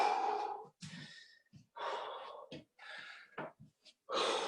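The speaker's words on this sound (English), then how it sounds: "Drinking, breathing." After a HIIT workout interval, someone breathes heavily, with loud, ragged, gasping breaths and sighs in uneven bursts separated by short pauses.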